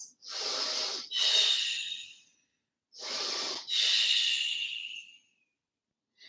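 Two slow, deep breath cycles during a yoga flow, each a breathy inhale followed by a longer, louder exhale with a hissing, airy quality, close up with quiet gaps between.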